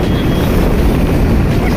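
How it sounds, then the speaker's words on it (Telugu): Strong wind roars steadily during a heavy rainstorm in Hindupur, a loud, continuous low rumble of gusts buffeting the microphone with no break and no talk. "గాలి అయితే భీకరంగా తోలుతుంది."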